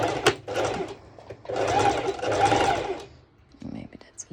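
A sewing machine runs a zigzag stitch along folded fabric edge in short bursts, close and moderately loud, with brief pauses between runs of whirring needle strokes.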